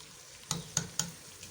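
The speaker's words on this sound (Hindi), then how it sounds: "देखिए इसी तरह स्पून लगा लगा के भूनना है।" Spoon scrapes three times against a pan of frying potato, peas and fenugreek, short sharp clinks over a faint sizzle.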